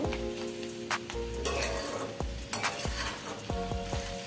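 Ash gourd bhaji being stirred in a frying pan, a steady close sizzle broken by several scraping strokes of a spatula against the metal, with no talking.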